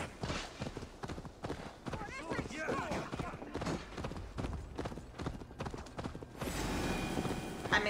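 Horse hooves clip-clop in Assassin's Creed Valhalla, a rapid, regular run of close hoofbeats, with game sounds and someone talking over them and a louder burst of noise near the end.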